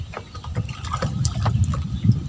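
A boat moves through floodwater around submerged houses in a village in Lakshmipur after days of nonstop rain, with a steady low rumble and close, sloshing water.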